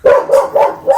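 A dog barks four times in quick succession, close and loud, each bark short and sharp.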